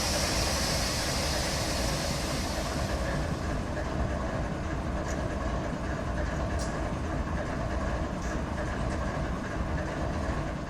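Long freight train in Run 8 Train Simulator, a loud steady rumble of rolling cars and engine with a hissing air-brake release at the start fading out, continuous throughout without talking.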